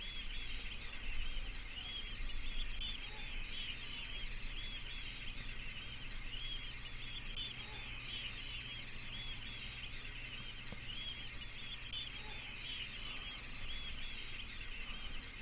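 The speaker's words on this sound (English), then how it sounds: "Here we've got lots of Dunlin and a few Sanderling amongst them too" Flock of Dunlin and Sanderling waders at a high tide roost at Snettisham, a soft continuous chatter of distant calls with a few louder swells, heard faintly over steady background hiss.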